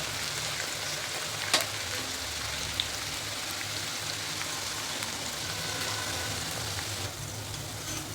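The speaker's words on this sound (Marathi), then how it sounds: "तर आता ह्या तेलामध्येच आपल्याला लसूण पण तळून घ्यायचं" Garlic fries in hot oil for a homemade onion-garlic masala, giving a continuous close crackling sizzle with a few sharper pops and spatters.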